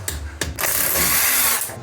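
A hand ratchet tightening a bolt on a Toyota 86 car, two quick clicks followed by a brief buzzing run of rapid ratcheting, close and fairly loud, with no talking.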